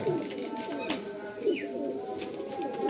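Teddy pigeons cooing in repeated soft, low calls at close range, several coos over steady background noise, with occasional faint voices.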